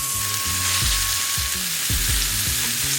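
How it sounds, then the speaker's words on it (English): Fish sears in hot butter in a pan, a steady close sizzle and frying hiss that fills the whole stretch, with low clinks and scrapes of cookware underneath and no talking. "Let the butter get hot."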